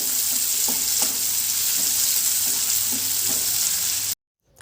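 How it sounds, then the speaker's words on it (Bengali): Chopped onion and cumin seeds frying in a pan for dal, a close, steady sizzle with regular spatula taps and scrapes as it is stirred, then a sudden cut to near silence. "পেঁয়াজটাকে দিয়ে এবার হালকা একটু নাড়াচাড়া করে"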